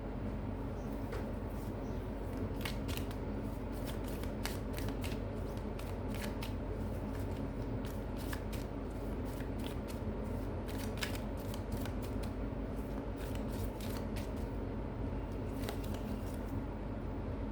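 Oracle cards being shuffled by hand during a tarot-style reading, a continuous soft riffling and flicking with rapid bursts of crisp card slaps, close and quiet, with no speech.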